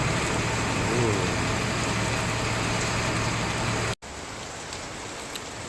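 Heavy rain pouring onto flooded streets on a hot, humid day, a loud constant hiss with a faint engine hum beneath, cutting off abruptly and resuming slightly quieter and thinner.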